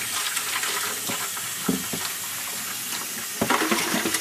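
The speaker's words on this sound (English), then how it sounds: "Now I'll keep the water on because I'm going to wash off the axe head here a little bit." Water runs from a tap into a bucket while an axe head is rinsed of rust, a continuous hissing stream broken by a few louder splashes and knocks as the flow hits the metal.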